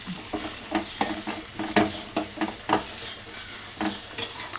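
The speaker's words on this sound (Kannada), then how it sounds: "ಒಂದು ಐದು ನಿಮಿಷ ನೋಡಿ ಈ ಥರ ಎಣ್ಣೆಲೆ ಹುರ್ಕೊಬೇಕು" Chayote sizzles in hot oil as a utensil stirs it in repeated scraping strokes, close and clear with no talking.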